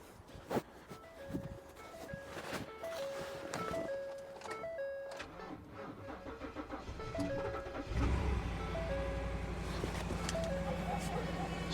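A 6.2 liter V8 truck engine with a dead battery, jump-started: a voice talks over faint clatter and beeping, then the engine cranks and catches partway through and settles into a steady, loud idle.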